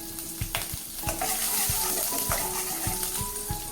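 A dosa vada mixture with urad dal and chili pieces frying in a pan, steady sizzling broken by rhythmic scraping stirs, close and clear with no talk.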